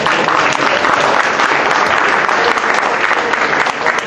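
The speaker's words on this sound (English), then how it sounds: "please give yourself a big round of applause" Sustained, dense applause from a citizens' presentation audience, steady and loud for the whole stretch with no break.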